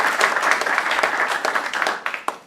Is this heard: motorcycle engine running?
no